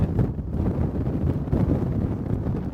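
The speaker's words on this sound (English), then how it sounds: "the gusting wind seems to be gusting stronger over the last couple minutes" Strong wind gusts roar and buffet the microphone continuously at a wildfire on Christie Mountain ahead of rain, a loud, low rushing with no pauses.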